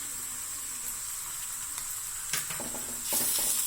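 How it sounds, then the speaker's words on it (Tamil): Onion and garlic paste sautéing in hot oil for a spicy peas masala, a steady close sizzle with faint stirring scrapes that grows louder and crackles near the end. "எண்ணெய் பிரிஞ்சு வர்ற வரைக்கும் நல்லா வதக்கணும்."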